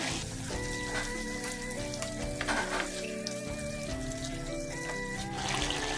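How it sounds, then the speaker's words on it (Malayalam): Precooked beef being stirred in a hot pan for a beef roast, sizzling and frying steadily with scraping stir strokes, close and moderately loud throughout, over a faint tonal background. "വേവിച്ച് വെച്ചിരിക്കുന്ന ബീഫ് ഇട്ട് കൊടുക്കാം ഇത് നല്ലതായിട്ട് മിക്സ് ചെയ്ത് കൊടുക്കാം"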